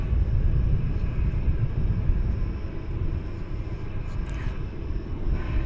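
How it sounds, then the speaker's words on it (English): A Delta airliner passes over DFW Airport, its engines a broad, steady roar with low rumble that holds at a fairly constant level throughout. "There you see a Delta flight coming over the bridge."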